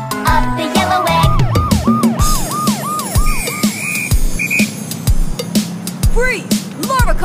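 A cartoon police car siren wails in a rhythmic, repeating up-and-down pattern, loud and close, mixed with beeps, bouncy music and thumps, while voices speak around it.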